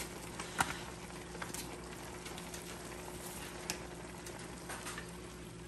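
Grease warming in a pan ahead of frying shrimp gives a faint, steady sizzle and crackle with a few sharper pops, heard alone with no talking.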